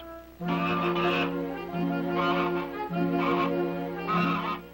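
A mother goose defending her nest gives four loud, nasal honks in a row, each one drawn out and rasping. She is close by, and no one talks over the calls.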